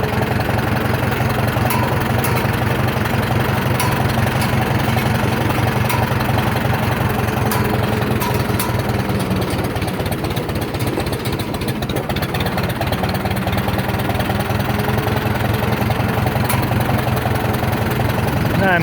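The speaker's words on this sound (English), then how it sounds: "You guys can see just how good it runs at an idle here." The rebuilt engine of a 1947 Farmall M tractor idling, a loud, steady, low chugging rumble with even rhythmic pulses, continuous throughout and close by.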